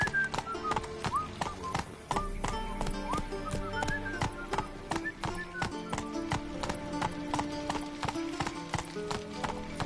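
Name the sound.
horse galloping hooves in video game The Witcher 3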